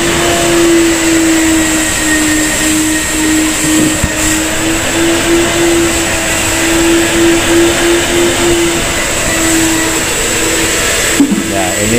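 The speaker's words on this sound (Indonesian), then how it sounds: "Ini kita memakai vacuum cleaner dengan kapasitas 60 liter dengan 2 dinamo." A 60-liter twin-motor vacuum cleaner runs steadily and loudly while cleaning a thick mosque carpet, a constant close whine holding throughout with a brief clatter near the end.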